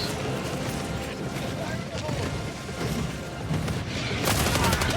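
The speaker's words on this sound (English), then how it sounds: "Watch out for the artillery." Rapid bursts of gunfire and explosive artillery booms from a chaotic co-op shooter battle, with a dense continuous barrage that swells louder near the end; voices talk over the fighting.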